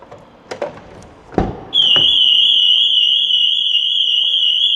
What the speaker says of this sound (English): I'm going to go in with the key without using the fob, which should trigger off the alarm.